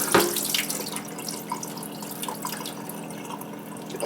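Tap water runs steadily into a sink, rinsing beef fat for tallow, a continuous close splashing stream with small drips and no voices.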